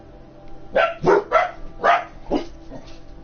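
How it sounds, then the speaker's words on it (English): Dogs barking indoors at home, a series of about six sharp, fairly close barks in uneven rhythm over a low background hum. "I'm sorry about the dogs."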